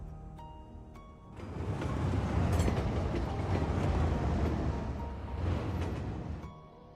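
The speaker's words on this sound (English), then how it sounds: "Damn, look at all those trains." Trains rumble past in the city-builder Cities Skylines 2, a broad rolling rail noise that swells in, holds loud for several seconds with a second surge, then fades out, with no talk.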